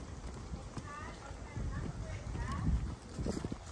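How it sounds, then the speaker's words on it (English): Horse hooves clip-clop softly on a dry trail during a horseback ride at Big Sky Ranch in San Juan del Sur, Nicaragua, with muffled voices faintly underneath. "This is the life, riding a horse."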